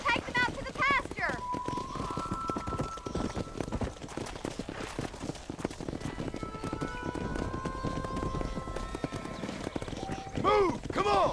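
Wild horses gallop in Red Dead Redemption, a dense run of hoofbeats throughout with shrill neighs at the start and end, under shouted voices and faint background music.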